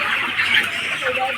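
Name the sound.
chickens clucking at a poultry farm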